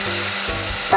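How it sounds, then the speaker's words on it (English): Swordfish sizzling in a frying pan inside a caravan kitchen, a close, steady crackling hiss with a low hum beneath and a brief clink of utensils near the end. "once that's sizzling away"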